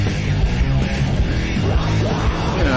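Heavy doom metal guitar riff, thick and distorted with a dense, continuous low drone that stays loud and unbroken across the short passage.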